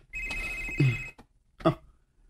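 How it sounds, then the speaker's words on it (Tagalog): A cellphone rings in a domestic drama scene, with two short bursts of a bright electronic ringtone separated by a brief pause. The ringing is fairly loud and close, and no one speaks over it. "May bagting ang imong cellphone"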